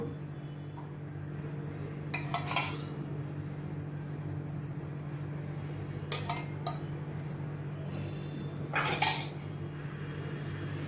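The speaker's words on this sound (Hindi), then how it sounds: "अब ये गैस पे मैंने पैन रखा है। इसमें मैं थोड़ा ये रिफाइंड ऑयल डालती हूँ।" A pan set on a gas stove with a few sharp metallic clinks and knocks spread out over several seconds, over a steady low hum, close and fairly quiet between the hits.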